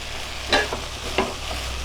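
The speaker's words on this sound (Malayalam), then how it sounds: "ഊറ്റിയെടുത്ത് വെച്ചിരുന്ന അരിയാണ്. അതുകൂടെ ഇട്ട് കൊടുത്തിട്ട് നന്നായി വഴറ്റി കൊടുക്കുക." Drained, soaked rice is sautéed in a pan for Kerala-style fish biriyani, making a soft continuous sizzle broken by two brief scraping stirs. It is close and brief, with no one talking.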